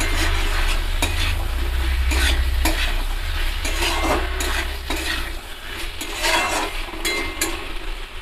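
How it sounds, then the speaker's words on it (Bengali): Potatoes and spices being stirred in a sizzling pan, a spoon scraping and clinking against the metal in repeated strokes over steady frying hiss. "2 মিনিট পর ঢাকনা খুলে আমি আবারও ভালোভাবে নাড়িয়ে নেব।"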